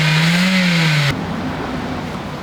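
A manual-transmission car engine revs up with a rising tone, then cuts off abruptly about halfway, leaving a lower idling rumble; loud and close, no talking.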